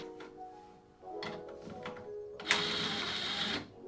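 A manual window regulator in a first-generation Mazda MX-5 Miata door is wound up and down, giving a few close, soft mechanical squeaks and thunks, then a steady scraping whir of the glass sliding for about a second.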